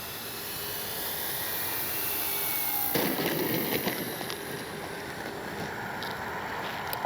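A CNHL Super Tucano RC airplane comes in for a no-flap landing, its electric motor a steady whine that swells suddenly near the midpoint and then holds a rough, broadband rush to the end, heard fairly close without talk.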